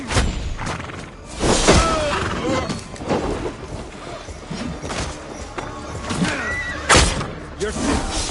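Horses neigh and whinny in Assassin's Creed Valhalla, several loud, close calls among game sounds of thuds and hoofbeats, with a voice speaking intermittently.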